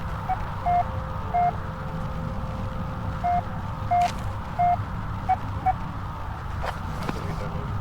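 In the video game Penumbra: Overture, a short electronic beep repeats at a steady, regular pace, clear but modest in level over a low, constant background hum.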